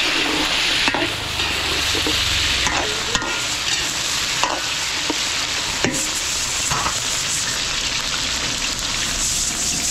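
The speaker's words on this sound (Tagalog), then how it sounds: "peprituhin ko lang yung carrots, patatas para medyo lumambot na" Carrots and potatoes frying in a pan for a catering meal, a loud continuous sizzle with occasional stirring scrapes and clanks on top, close and steady throughout with no talking.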